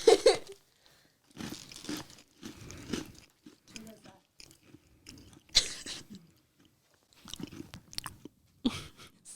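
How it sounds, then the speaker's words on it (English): Oreo cookies chewed close to a microphone give repeated crunching, biting bursts in an irregular rhythm, loud and near, with short pauses between mouthfuls. "Stop chewing into the mic."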